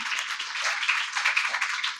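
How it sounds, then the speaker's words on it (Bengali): An audience claps together in a dense, steady burst of many hands, close and fairly loud, with no other sound over it. "হাততালি হোক সবাই মিলে"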